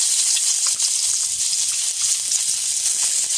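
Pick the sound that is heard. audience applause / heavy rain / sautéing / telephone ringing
sautéing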